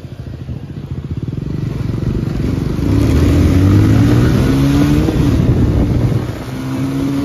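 Motorbike engine droning steadily at close range while riding through a crowded area en route to Lalbaug, the tone rising and settling as the bike accelerates, with faint background voices.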